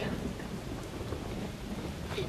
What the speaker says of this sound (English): Some gnarly storm, huh?